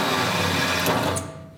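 A power drill runs wide open as it bores into the sheet-metal roof panel of a 1966 coupe during a fastback conversion, giving a steady, close, high-pitched whine that fades toward the end.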